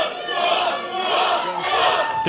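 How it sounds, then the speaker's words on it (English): A capacity wrestling crowd in Hamilton chants Wolf at a Tri-State Wrestling show, a loud rhythmic roar of massed voices swelling in repeated waves. "There's that obnoxious Wolf chant coming up again from this capacity crowd here in Hamilton."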